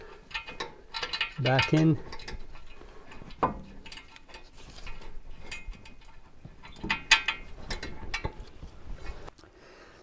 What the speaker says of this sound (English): Time to put the bolts on here, the mounting bolts